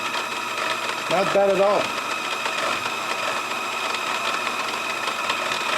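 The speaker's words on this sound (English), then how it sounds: "Starting to get some chatter, but we're still removing metal pretty good." Steel being turned on a lathe with a carbide insert at about 1,000 RPM, a steady broadband machining whine and hum with faint chatter throughout, briefly overlapped by a man's short spoken remark near the start.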